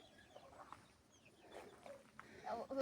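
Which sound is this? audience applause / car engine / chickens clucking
chickens clucking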